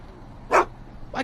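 A dog, the scruffy sheepdog Einstein, lets out two short barks, a louder one and then a softer one, close by, with quiet background between them.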